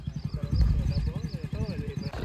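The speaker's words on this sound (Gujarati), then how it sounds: "સવારના પોરમાં અમે નનીતભાઈ ઘોડી લઈને નીકળી ગયા છીએ" A mare's hooves clip-clop in a quick, steady rhythm on an outdoor ride, close and mixed with a voice talking over the footfalls.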